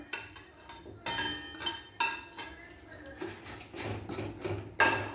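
Milk and chhena are stirred in a pot for a sweet, with repeated close scrapes and metallic clinks of the spoon against the vessel in an irregular rhythm.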